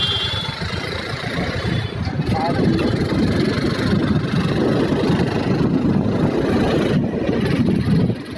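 Road traffic on a rainy day, with several vehicle engines idling in a low, steady rumble that stays close and continuous, while a voice talks over it now and then.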